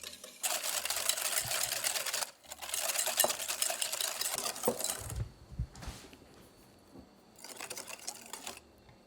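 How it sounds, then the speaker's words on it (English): A whisk beats sugar into egg yolks for creme brulee with quick, continuous rhythmic scraping against the bowl, in several bursts separated by brief pauses, fairly close and moderately loud. "1/3 of a cup or 80 ml of sugar whisking into the yolks."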